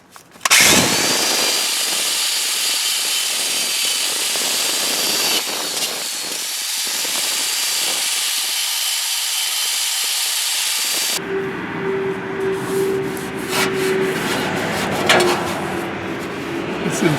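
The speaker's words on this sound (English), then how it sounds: "So we're going to get some of that rust off" A power tool grinds and sands rust off fresh weld metal beneath a Jeep, a loud, harsh continuous hiss close by that shifts in pitch midway as contact with the metal changes.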